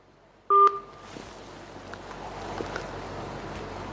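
A short pair of telephone dialing tones rings out clearly, then fades into quiet room noise with faint background sounds.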